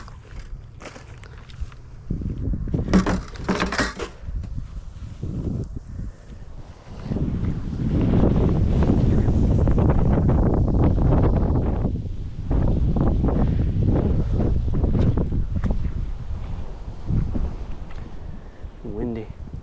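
Wind blowing outdoors in a natural setting, rushing in gusts that swell and ease against the microphone, with rustling and footstep-like movement nearby and voices speaking at times.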